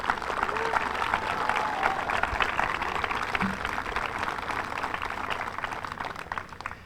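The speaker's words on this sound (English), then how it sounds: "Please, a round of applause." Audience applause at an outdoor veterans' memorial welcoming ceremony, a steady wash of clapping held at an even level for the whole stretch, fairly close and full, with no talk over it.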